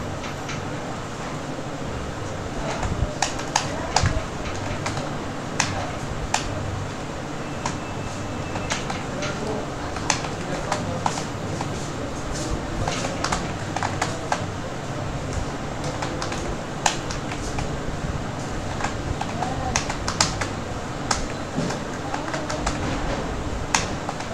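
Typing on a computer keyboard, a run of quick irregular clicks and taps over a steady room hum, close and moderately loud with brief pauses between bursts.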